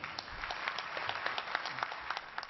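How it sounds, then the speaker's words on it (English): Light, scattered applause from the audience at a climate conference in Poland, a thin patter of individual claps carrying on steadily without building into a loud ovation. "There was applause, but not much."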